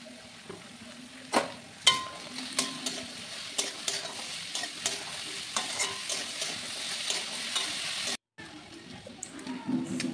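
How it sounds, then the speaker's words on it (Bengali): Capsicum fries in a pan with salt and turmeric, giving a steady close sizzle broken by the sharp scrapes and knocks of stirring, with a brief drop to near-silence late on. "এবার আমি ক্যাপসিকামটা এর মধ্যে দিয়ে দিয়েছি। ভালো করে এটাকে ভেজে নিয়ে"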